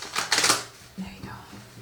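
A brief papery riffle of tarot cards being shuffled, close and fairly loud, followed by a soft voice murmuring.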